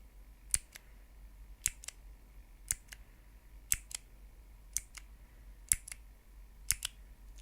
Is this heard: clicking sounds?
yes